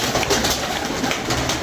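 Pigeons coo close by in a loft, soft throaty burbling calls repeating over a steady noisy background, with no talking.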